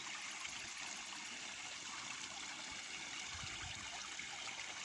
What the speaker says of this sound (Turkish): köyümüzün merkez çeşmesi. Maşallah gürül gürül akıyor.